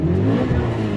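A 1998 Mitsubishi Lancer Evo 5 GSR with its 4G63 engine revs steadily at close range for about a second, a dense, continuous mechanical drone with no voices.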